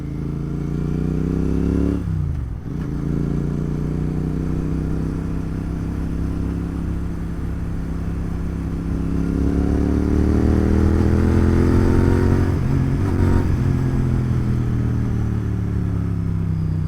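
A GT 650 motorcycle cruising at night: a loud, close engine drone runs steadily throughout, with rising and falling rev changes as the bike accelerates and eases off.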